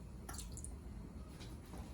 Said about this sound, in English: I add a little splash of lemon juice